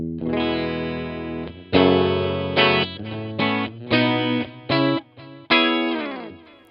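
Electric guitar chords played through a UAFX compact tape echo pedal, with the record level raised for more delay; bright, distorted strums ring out with soft repeats trailing after each chord.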